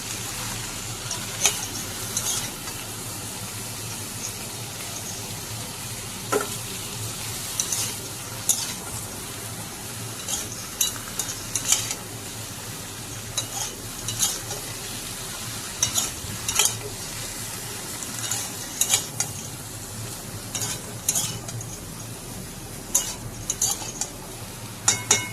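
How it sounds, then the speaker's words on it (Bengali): Potatoes and ridge gourd sizzle gently in a pan with onion while a spatula stirs them, a soft steady frying hiss broken by repeated scraping clinks of metal on the pan, no voices. "এখন আলু আর ঝিঙেগুলো ভালোভাবে নেড়ে নেব।"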